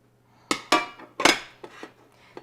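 A potato pancake is flipped in a skillet: several sharp metallic scrapes and clatters of a spatula against the pan, close and loud, with short pauses between.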